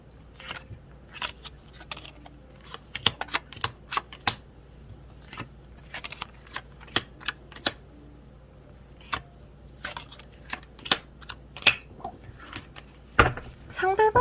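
Tarot cards being shuffled and drawn during a love reading, heard as a steady series of sharp, close paper slaps and flicks in irregular bursts against a quiet background, with no voices.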